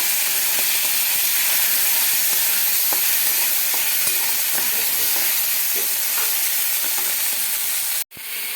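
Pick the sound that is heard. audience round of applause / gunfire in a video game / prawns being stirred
prawns being stirred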